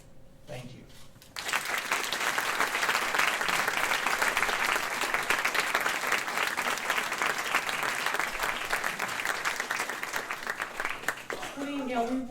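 An audience at a gathering for a $25 million gift toward a new dental school in Texas breaks into loud, sustained applause that fills the room for about ten seconds, with a voice speaking just before it starts and again as it fades.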